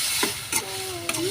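Tomato and onion being sautéed in a pan make a soft sizzle with a few quick stirring scrapes, close and brief, with no voices.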